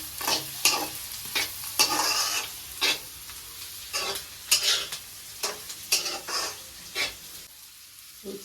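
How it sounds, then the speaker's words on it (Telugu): Carrot and cabbage stir-frying in a pan, a close sizzle broken by brisk, irregular stirring strokes that come in short bursts, with a steady hiss between them. "వేసుకొని బాగా ఫ్రై చేసుకోవాలి."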